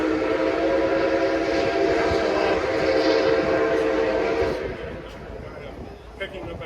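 The whistle of steam locomotive Nickel Plate Road 756 sounds in a long, loud sustained blast, then cuts off, leaving quieter rail and background noise with a voice.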